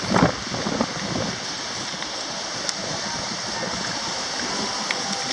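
Strong gusty wind roars steadily across an open microphone on the Venice Beach boardwalk in Los Angeles, a dense broadband rush with a louder buffet at the start.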